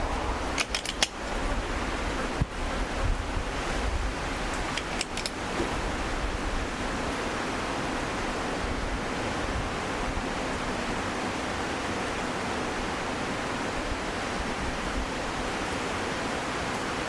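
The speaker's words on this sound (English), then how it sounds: "A bit of a windy day today," Wind sweeps across an outdoor shooting range, a steady, full-bodied rushing hiss throughout, with a few small clicks and knocks near the start.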